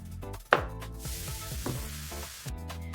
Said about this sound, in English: add blended pepper and chopped onions to the hot palm oil